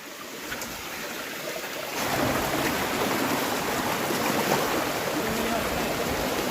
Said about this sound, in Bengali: পানির স্রোত প্রচন্ড